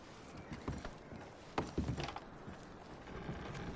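Horse hooves clip-clopping in the video game Red Dead Redemption 2, a few scattered hoof thuds and shuffles over a steady outdoor ambience, fairly close with a louder cluster mid-clip.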